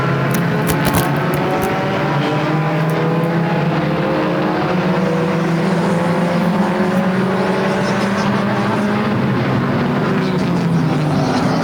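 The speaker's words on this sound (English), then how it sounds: "Still a whole gaggle of race cars still side by side." Pure stock race cars racing side by side at Flamboro Speedway, a loud, sustained roar of several engines with layered droning tones shifting as the pack passes, continuous throughout.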